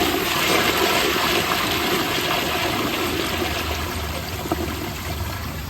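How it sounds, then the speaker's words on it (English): A brand-new Proflo Jerritt toilet flushes with its tank at mid level, a loud, steady rush of draining water that holds strong throughout and tapers only slightly at the end. "Let's give it a flush."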